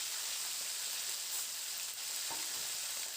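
Khoira fish fry gently in oil, a brief, even hiss of sizzling heard close and unbroken, with no speech.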